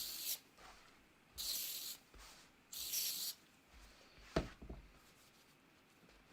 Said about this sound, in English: I'm going to just go ahead and give this some spray starch